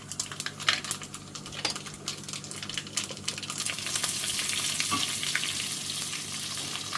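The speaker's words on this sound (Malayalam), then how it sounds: "ഉലുവയും കടുകും അതിട്ട് പൊട്ടുമ്പോൾ മുളകും കറിവേപ്പിലയും." Fenugreek, mustard seeds, chillies and curry leaves sizzle and crackle in hot oil close up, with scattered popping at first that swells into a steady hiss of frying.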